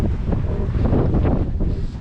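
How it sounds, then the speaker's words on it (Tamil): Strong wind buffets the microphone in a steady, loud roar during a boat ride on a lake, with faint water noise beneath and no talking. "இந்த காற்று நிறைய அடிக்குது"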